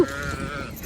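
A single sheep bleats once, a wavering nasal call heard fairly close against a damp outdoor background.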